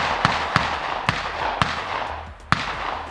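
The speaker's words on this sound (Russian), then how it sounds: "Выстрелим мы по мишеням." An ARMSAN PHENOMA smoothbore shotgun fires No. 7 birdshot in 32-gram loads at targets 35 metres away: five sharp, loud, close reports at irregular intervals, with quieter background noise between them.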